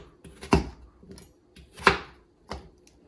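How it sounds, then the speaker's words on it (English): A knife chops potatoes on a board for a creamy spinach soup: four sharp, close chops at uneven intervals, with softer knocks between them. "So I'm going to chop up some potatoes"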